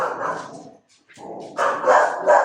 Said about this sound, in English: Sorry about the dogs, y'all.